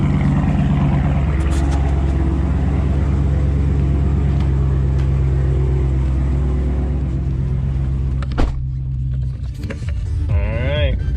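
A 2018 Dodge Charger idles and then drives off, its deep engine rumble loud and steady from inside the car before a clunk and a shift in tone near the end, with someone talking briefly.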